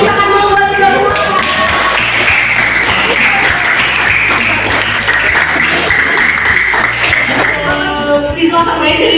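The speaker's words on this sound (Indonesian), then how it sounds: "Tepuk tangan dulu buat kita semua." Students in a classroom break into loud, continuous group applause, heard close and sustained for several seconds, with a low rhythmic background tone and some voices underneath.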